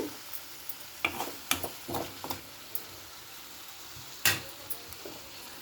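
Tomatoes softening in a hot pan for a spice-free brinjal curry, stirred with a spatula: a faint steady sizzle broken by several quiet, irregular scrapes and clicks of the utensil against the pan, with no voices.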